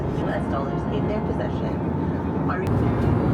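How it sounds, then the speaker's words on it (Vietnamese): Steady, loud jet-engine roar fills the cabin of a narrow-body Airbus A320 in flight, a constant broadband drone with faint voices murmuring underneath. "Vì chuyến bay ngắn nên hãng cũng bay trên tàu thân hẹp A320 thôi."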